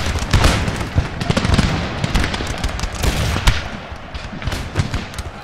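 Musket volleys crackle in Napoleon Total War, a dense, continuous stream of overlapping gunshots with sharper bursts standing out, loud and steady throughout with no talking.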